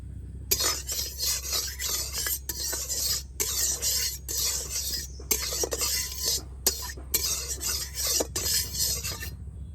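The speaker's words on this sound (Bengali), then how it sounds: "কড়াই গরম হয়ে গেছে দিয়েছি সরষের তেল" Mustard oil heating in a wok on a stove, heard as a sequence of scraping, rasping stirs and a light sizzle in short repeated bursts, close and fairly loud, with no talking.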